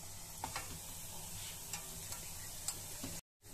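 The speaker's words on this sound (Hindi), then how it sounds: "अब हमने इनको इस तरह से अपने घी को इस तरह से चम्मच को हिलाते हुए हमने अपने गोलों को पलटना है" Gulab jamun balls fry in ghee as a spoon stirs the fat, giving a soft, continuous sizzle dotted with light, irregular spoon ticks; the sound is faint and cuts out briefly near the end.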